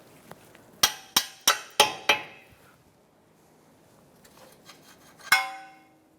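Five sharp metallic taps in quick succession, then a softer scrape and a final ringing clank, as a nut and bolt are worked free from a control arm on a 2013-2022 Buick Encore; close and alone.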